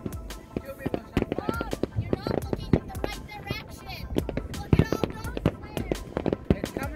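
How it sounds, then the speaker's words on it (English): New Year's fireworks bursting across a causeway at midnight, heard from a boat: a steady run of sharp, distant pops and cracks under lively chatter from people aboard. "fireworks across the causeway, which is super cool."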